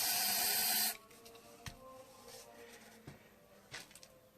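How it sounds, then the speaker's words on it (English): Spray paint hissing through a spraycasso funnel onto posterboard: one steady, close spray burst lasting about a second, then quiet handling clicks and light taps. "You can use the flat tip of your spraycasso funnel here to make things a little bit thicker."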